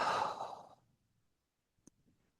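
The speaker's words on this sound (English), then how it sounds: "We'll take 5 rounds of breath here." Slow, deep yoga breath: one long audible exhale sighing out close by and trailing off into quiet, followed by a faint small click and a soft breath.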